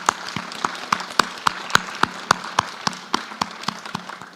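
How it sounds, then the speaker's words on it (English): Audience applause for guests on a live Gen Z election debate show, heard as a sparse run of distinct, evenly spaced claps at a moderate level with nothing else over them. "A round of applause to all of you for joining us."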